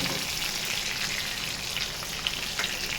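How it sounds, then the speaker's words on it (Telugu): Chicken pieces with salt and turmeric frying in a pan until browned for a simple chicken curry, giving a steady, loud, close sizzle with crackling pops throughout and no talking. "ముందుగా చికెన్ అనేది మనం బాగా ఎర్రగా వేపేయాలి."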